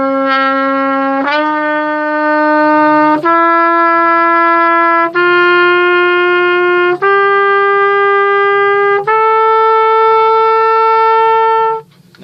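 Wind instrument stepping through a sequence of sustained notes from D up to B, each tone clear and steady, held for about two seconds before the next, played alone and close.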